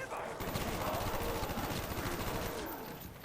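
Rapid gunfire in a shooter video game, a dense stream of fast repeating shots that runs nearly the whole time before easing off at the end, with faint talk under it.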